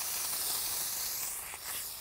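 Hop ale poured into a hot pan to steam food through during an outdoor Northern Territory bush cooking session, giving a loud continuous bright hiss and sizzle that eases slightly toward the end, with no talk.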